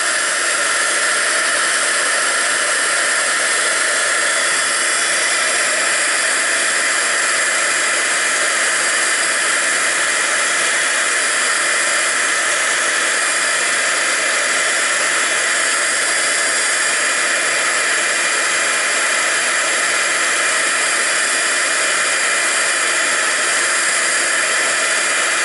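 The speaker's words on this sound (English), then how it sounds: "The heat gun does get quite warm," A heat gun used for stamped-card heat embossing blows a constant, even hiss of hot air for the whole stretch with no change in pitch or level.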